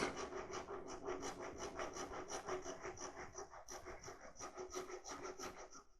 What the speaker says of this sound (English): just slowly start hollowing that out